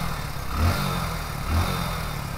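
A Hero Splendor BS6 motorcycle runs with its battery wire disconnected, the engine holding a steady close idle with two brief swells in rumble.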